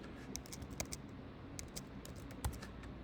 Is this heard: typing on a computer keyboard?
yes